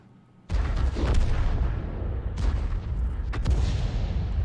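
A SU-14-2 self-propelled artillery gun fires in a tank video game: a heavy booming blast that rolls on into a long rumbling tail, with further sharp cracks and echoes following, loud and close.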